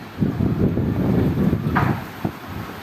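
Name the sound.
strong wind before a storm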